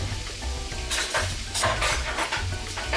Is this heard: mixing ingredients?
yes